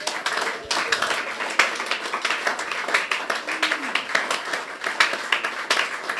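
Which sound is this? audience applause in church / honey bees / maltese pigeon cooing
audience applause in church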